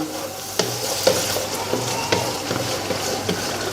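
Spiced liver (masaledar kaleji) sizzles steadily in a pan while a spoon gently stirs it, with soft scraping knocks every half second or so over the constant frying hiss.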